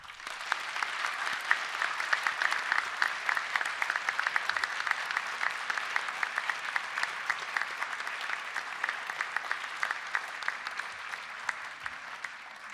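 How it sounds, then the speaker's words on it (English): A large crowd at a university winter graduation ceremony applauds steadily and densely for over twelve seconds, a continuous even wash of many hands clapping at moderate distance, with no speech on top. "please could we have a huge round of applause for all those people here and elsewhere who have helped, inspired, cajoled maybe, and encouraged you"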